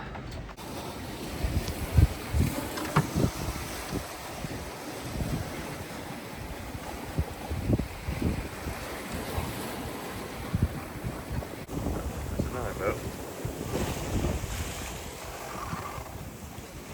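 Steady wind and rolling ocean swell wash around a 28ft sailboat alone at sea, a continuous broad rush with small irregular surges and microphone buffeting, while a voice speaks briefly and quietly.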